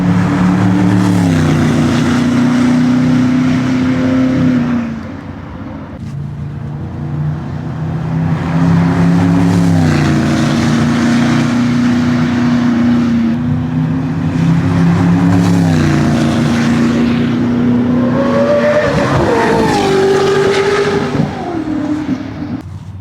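A Koenigsegg hypercar laps Laguna Seca race track, its engine loud and close, revving up through gears in repeated rising sweeps with short dips between shifts, lasting throughout with no voices.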